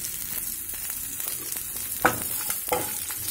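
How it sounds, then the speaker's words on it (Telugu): A cup of large coconut pieces frying in a kadai for tomato coconut pachadi, a soft steady sizzle with a few sharp stirring scrapes near the end. "ఈ కొబ్బరి కూడా 1-2 మినిట్స్ లాగా వేయించాలి"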